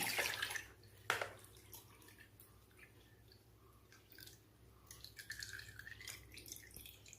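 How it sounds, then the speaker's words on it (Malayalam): Water drains off soaked, softened onions in a kitchen, coming as faint drips and trickles with a brief splash near the start and scattered patters toward the end. "അതുപോലെ തന്നെ ഈ വെള്ളം ഒന്ന് കളഞ്ഞെടുക്കണം."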